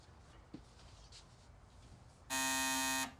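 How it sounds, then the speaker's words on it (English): A loud, harsh electric door buzzer drones steadily for under a second near the end, after quiet room noise with a faint tap. "Oh, Dad, try the buzzer for me."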